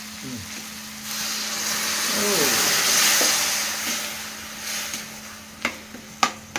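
Jowar upma simmering under a lid in a pan, a steady soft sizzle and bubbling hiss that swells in the middle, then a few sharp clicks near the end.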